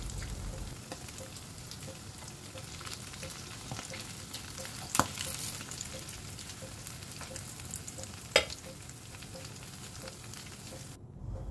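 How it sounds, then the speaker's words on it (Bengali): Soya chunks fry in hot oil in a kadai and are turned over carefully, giving a steady close sizzle all the way through. Two sharp clinks of the utensil against the pan stand out, and nobody speaks. "খুব সাবধানে একটু উল্টে পাল্টে লাল লাল করে ভেজে নিতে হবে।"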